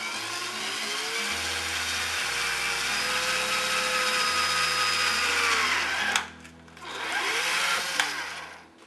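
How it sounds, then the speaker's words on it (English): A power drill fitted with a 1/4-inch bit bores into a drain pipe, a loud sustained whine that shifts pitch as it bites, stops briefly near six seconds, then spins up again before cutting off. "And then just go ahead and drill."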